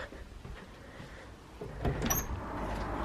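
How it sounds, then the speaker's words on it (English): A door in a dark room is opened, giving one short, fairly faint scrape and thump partway through amid quiet room noise. "Let me open the door."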